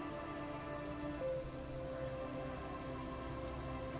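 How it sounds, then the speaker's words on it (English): Steady rain streams down the yellow hull of a boat in the video game Disco Elysium, a soft, even hiss of falling water that holds constant and faint with no voices. "She looks at the rain streaming down the yellow belly of the boat."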